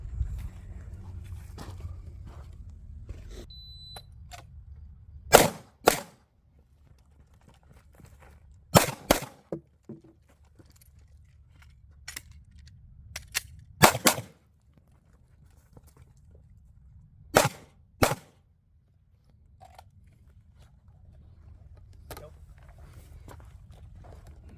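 Pistol shots ring out on a USPSA shooting stage, sharp loud reports in quick pairs and clusters separated by pauses, with shuffling, footsteps and a few voices in the background.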